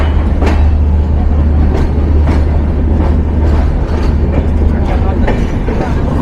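The Madhumati Express rumbles at Rajbari station with a loud, continuous low drone and a series of sharp, regular clacks from the wheels and couplings.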